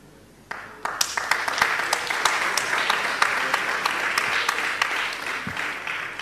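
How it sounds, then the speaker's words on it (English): An audience applauds a speaker at an Achimota event, starting abruptly and holding steady as a dense, moderately loud round of clapping with sharper individual claps standing out. "I would like to commend and applaud our speaker"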